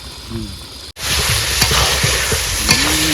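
Spice masala is sautéed in a pan, with a continuous sizzle and repeated scraping stir strokes up close; a voice speaks briefly at the start and again at the end.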